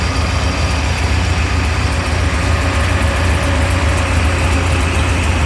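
A 1976 HP 440 engine idles at 900 RPM, not fully warmed up, giving a steady, dense low rumble with even mechanical chatter throughout and no voices.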